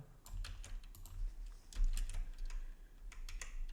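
Fingers tap on a computer keyboard in quick, uneven bursts of clicks, close and fairly quiet, with no voices.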